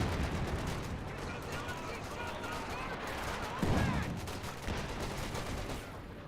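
Machine-gun fire from a .50 cal in the Company of Heroes 2 battle game, a rattling burst buried in a dense background din of war, with a heavier bang near the middle and a caster's voice over it.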